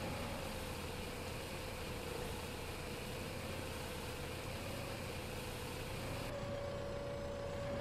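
A tractor engine in Farming Simulator 2015 runs steadily at idle, a constant droning hum with a sustained tonal whine, unbroken for the whole stretch.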